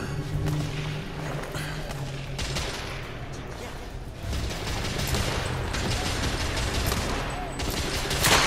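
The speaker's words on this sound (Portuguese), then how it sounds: "Mais um tiro na cabeça" Gunfire in The Order: 1886, loud continuous volleys of shots with sharp cracks and booms layered over a dense battle din throughout, a voice faintly underneath.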